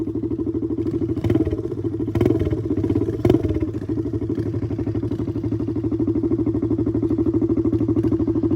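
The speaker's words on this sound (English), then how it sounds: "All right, the races are starting with Blake and Jacob" Pit bikes race at a pit bike championship, a steady buzzing engine drone running throughout with a few sharper revs and clattering bursts, fairly close and loud, with no talk.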